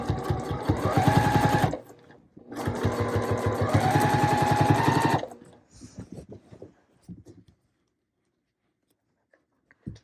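Sewing machine stitching quilt binding: two loud, close bursts of rapid mechanical stitching separated by a brief pause, followed by softer clicks and fabric handling before fading to quiet.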